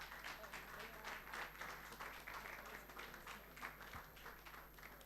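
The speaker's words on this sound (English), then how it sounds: "Please keep clapping till she gets here." Audience applause at a new media conference panel session, a faint, steady wash of many hands clapping from across the room, continuing without a break.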